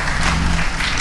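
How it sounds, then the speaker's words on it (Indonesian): Audience applause at a church gathering, a steady wash of many hands clapping together, filling a brief moment without pause. "Tepuk tangan buat multimedianya."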